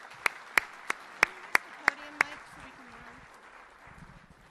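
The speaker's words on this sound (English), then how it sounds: "Let's give Adam a round of applause" About seven sharp, evenly spaced hand claps ring out in a quiet lecture hall after a gardening talk, then fade into low murmuring and brief speech.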